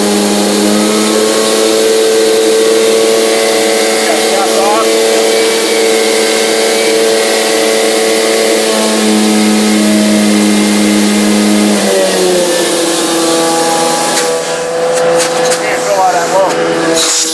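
A car engine idles with the parking brake on, a loud, steady droning hum that holds for a long stretch before its pitch drops and shifts near the end, with brief voices nearby.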